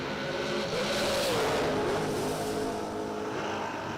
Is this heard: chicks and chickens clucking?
no